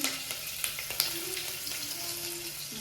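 Asafoetida and dried red chillies sizzle in hot oil with curry leaves, a soft, continuous crackle heard faintly, with a few light clicks and clinks.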